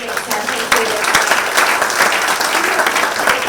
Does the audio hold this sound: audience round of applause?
yes